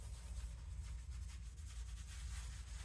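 A brush scrubs watercolor paint onto paper in a continuous, soft, dry rubbing rhythm, quiet and close with no voices.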